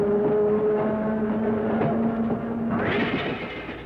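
Steady rumble of a two-car former Southern Pacific interurban electric train rolling along tracks in Los Angeles in 1961, with a sustained whining tone, then a rising hiss near the end as it fades slightly.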